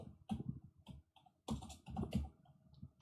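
A short name typed out on a computer keyboard, two quick bursts of close, crisp key clicks split by a brief pause, with no voices.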